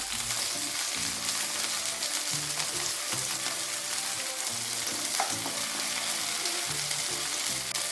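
Ginger, garlic and a dried red chili fry over high flame in a pan with tomatoes for soup: a loud, continuous, close sizzle with faint scraping of stirring and no voices.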